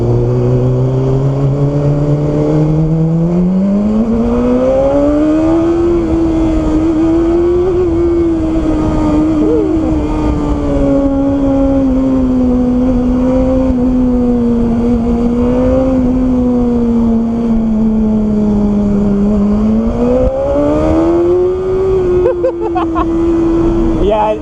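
A BMW S1000RR motorcycle in race mode accelerates hard, its engine note climbing through gear after gear in a loud, continuous scream up close, with a brief drop near the end.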